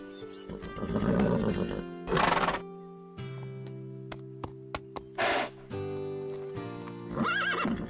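Cartoon horse neighing in several loud, clear whinnies separated by short pauses, with clip-clop hoof sounds and music playing underneath.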